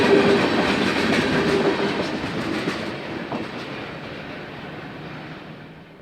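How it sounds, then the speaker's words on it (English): A Canadian National freight train, the L515 with a mixed set of EMD locomotives, rolls past in Chicago Heights on the former Elgin, Joliet & Eastern line. It starts loud and close, with steady rumble and wheel clatter, then slowly fades as it moves away. "an L515 is returning from Homewood with a nice variety of EMD power"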